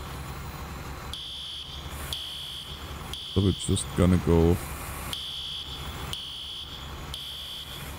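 A fire alarm in the EmergeNYC firefighting game beeps in evenly spaced, sustained shrill pulses about once a second, with a brief burst of other tonal effects midway and someone speaking briefly over it.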